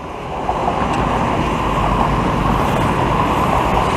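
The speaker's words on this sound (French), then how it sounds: "Quand vous voyez la circulation qu'il y a juste là" Busy street traffic in Phitsanulok, Thailand, a dense, continuous roar of passing vehicles and road noise, loud and steady throughout without speech.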